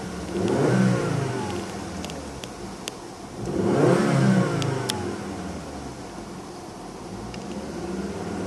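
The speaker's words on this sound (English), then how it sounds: "Excellent sound from that 5-cylinder." A 2016 Volvo S60 T5 AWD five-cylinder engine revs hard twice, each throttle blip swelling and falling back to a steady idle, heard up close with no talking.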